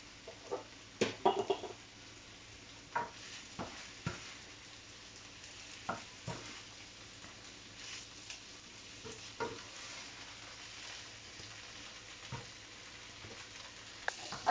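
Chicken fries in a pan while it is stirred, a steady soft sizzle broken by scattered scraping clicks and taps of the utensil, quiet and close.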